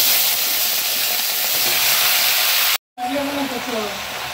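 Vegetables hit hot oil seasoned with panch phoron and chopped ginger, producing a loud, close, continuous hiss and sizzle that cuts out abruptly, then resumes more softly with faint voice-like tones over the frying.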